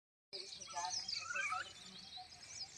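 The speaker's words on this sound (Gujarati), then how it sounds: "પક્ષીઓનો ને મસ્ત મજાનો અવાજ આવે છે" Sparrows chirp in the morning near a home where rice grains are scattered for them, a short run of bright twittering calls close by, fading to quieter background.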